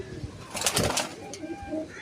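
Malwai Punjabi pigeons coo softly nearby, low throaty calls rising and falling, with a faint rustle in the background.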